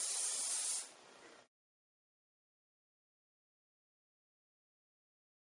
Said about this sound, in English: what I'm going to do is just give it another good spray